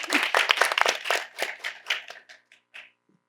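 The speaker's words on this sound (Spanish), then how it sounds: "Un fuerte aplauso para el doctor Víctor Sánchez Cordero" Audience applause at a technical forum on nature conservation: a dense burst of clapping from a seated crowd that thins out and fades to a few last claps within about three seconds.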